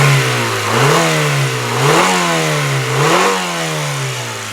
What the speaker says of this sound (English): I'm even going to rev it up for you, so here we go.